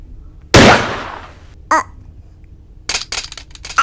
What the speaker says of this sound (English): I didn't think it would actually explode.